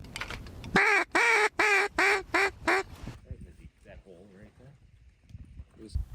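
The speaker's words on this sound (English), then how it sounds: "The birds are starting to fly. Just had a couple land in the decoys" Ducks quacking near decoys during a rainy Canadian duck hunt, a loud close burst of rapid repeated quacks followed by fainter, more distant quacking calls.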